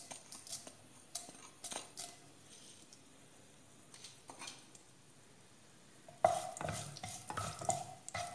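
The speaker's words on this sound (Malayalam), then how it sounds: "കടുക് പൊട്ടുന്നുണ്ട്." Mustard seeds crackling in about two tablespoons of hot oil for a snake gourd thoran, sparse sharp pops and spoon scrapes over a quiet base, growing busier and louder near the end.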